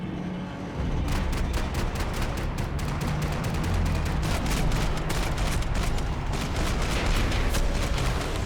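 Sustained, dense gunfire in the Max Payne 3 video game, with rapid volleys of shots cracking continuously after a brief quieter start and filling the whole clip at close range.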